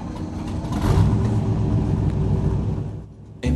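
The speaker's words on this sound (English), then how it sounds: "Engines pumping and thumping in time." A heavy 3,400-pound stock car engine rumbles and revs steadily up close, a loud droning roar that drops away near the end before a sudden burst.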